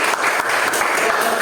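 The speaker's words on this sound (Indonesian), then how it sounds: "Tepuk tangan." Students in a classroom clap after a group presentation, a short burst of close, loud, rapid clapping from a small group.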